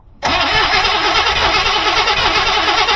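A 1974 Buick Riviera 455 V8 is cranked again, a loud, close starter whir with steady rhythmic pulses that kicks in suddenly and keeps spinning without the engine firing.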